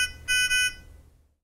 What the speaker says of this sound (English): You can silence the audible alarm for 2 minutes by momentarily pressing the on-off button.